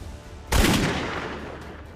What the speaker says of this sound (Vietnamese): 12 khẩu súng nhưng chỉ có 3 viên đạn trúng đích, 1 viên xuyên vào tim.